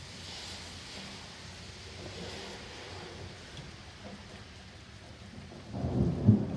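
Severe thunderstorm with steady heavy rain hissing throughout and a low rumble of thunder swelling louder near the end, with no voices.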